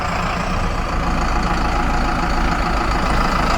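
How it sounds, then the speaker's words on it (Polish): A heavy diesel engine of a new Zetor Forterra tractor running steadily at close range, a continuous low rumbling drone with no pauses. "właśnie odbywa pierwszą jazdę swoim nowym ciągnikiem"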